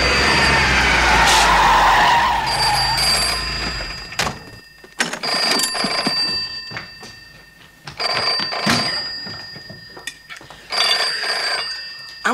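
A telephone rings repeatedly in loud, even bursts, after a roaring rush of engine and skidding noise at the start.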